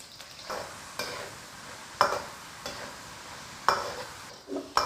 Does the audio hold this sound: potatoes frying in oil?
yes